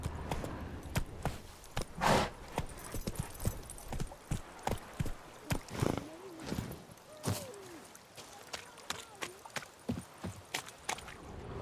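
Roach the horse from The Witcher 3 trotting and galloping, sharp hoof clip-clops in bursts with brief pauses, a soft snort and whinny mixed in, fairly close and moderate in level, no talk.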